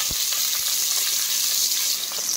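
Green chillies hitting well-heated oil for roadside-style masala Maggi noodles give a loud, close, steady sizzle with a couple of faint clinks near the start, no voices.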